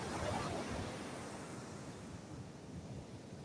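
Ocean surf washing up on a South African beach as the tide comes in, a steady broad roar of breaking waves with some wind buffeting the microphone, no voices.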